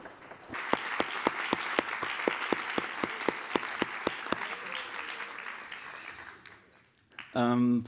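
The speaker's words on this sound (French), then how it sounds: "vous pouvez vous applaudir" An audience at a closing session bursts into applause, with sharp individual claps standing out over a steady wash of clapping that gradually fades, then a voice begins at the end.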